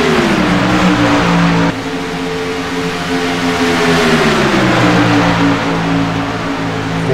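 Race trucks roar around a track with their engines held high in a loud, continuous droning whine that shifts pitch slightly as the pack runs together, with no voices heard.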